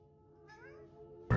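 A single short cat meow rises faintly out of a quiet room tone in a dark house at night. It ends with a sudden loud thump.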